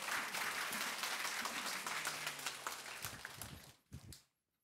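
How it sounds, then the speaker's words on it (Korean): Warm applause from a church congregation welcoming their pastor, a steady crowd of clapping that fades out into silence. "우리 박수로 환영하도록 하겠습니다"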